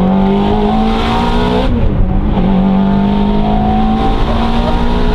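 A Ferrari engine revs loud and steady throughout while the car is driven, the pitch dipping briefly midway and then climbing again, with no talk over it.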